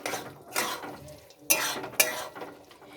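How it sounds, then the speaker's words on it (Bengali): Spices being stirred in a cooking pan, sharp scraping and clinking strokes of a utensil against the metal, several distinct bursts in an uneven rhythm, close and fairly quiet. "এবার আমি ভালো করে একটু নাড়াচাড়া করে নেব।"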